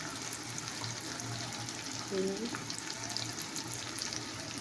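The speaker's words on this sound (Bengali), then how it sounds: "পেঁয়াজ ফেলে দিয়েছি" Onions fry in a pan with a steady low sizzle under constant background noise, a person talking faintly over it and a brief clatter midway.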